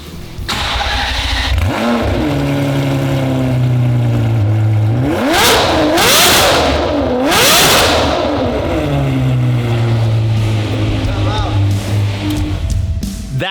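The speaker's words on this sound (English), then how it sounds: "this newer V12 engine is about twice as loud" A stock Ferrari 599 V12 with headers and a straight pipe barks to life, then revs hard twice in loud, screaming bursts before settling to a steady, throaty idle close by.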